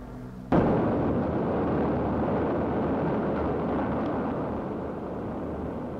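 Archive recording of the atomic bomb exploding over Hiroshima in August 1945, dropped from a lone B-29: a sudden loud blast gives way to a dense, sustained roaring rumble that fills the rest of the clip.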